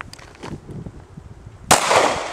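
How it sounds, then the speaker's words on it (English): A single loud gunshot from a gun at an outdoor range in Guam, a sharp close crack after quieter background noise, followed by a lingering rumbling tail. "Let's go see the action on that gun go."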